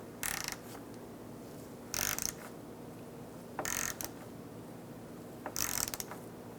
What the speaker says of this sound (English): Now we can torque down our drain plug to 20 foot-pounds.